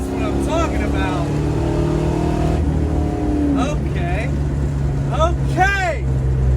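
A Ford Mustang Foxbody, fitted with a new transmission and extra ignition timing, revs and accelerates loudly up close, its engine note climbing in sweeps while excited voices shout over it.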